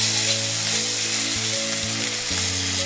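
Onion with half a spoon of ginger-garlic paste sizzling steadily in a frying pan, a close, continuous hiss and crackle with a few brief stirring bumps, no voices.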